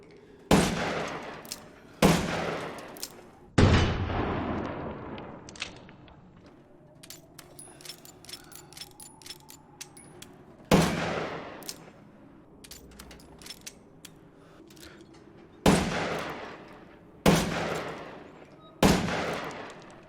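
Long-barrel magnum in Resident Evil Village, about eight heavy, booming shots fired at uneven intervals, each with a sharp crack and a decaying echo, with quieter mechanical handling sounds between them.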